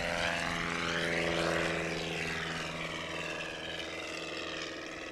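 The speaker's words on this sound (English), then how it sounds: "180 horsepower just sounds great on that airplane" Super Cub airplane with a 180 horsepower engine at a mountain STOL competition, its propeller drone loud and steady and passing by with a shifting pitch that slowly eases off.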